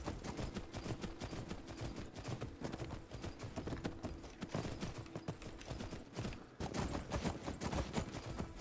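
Horse hooves clip-clop at a quick steady gallop in the Skyrim video game, loud and continuous.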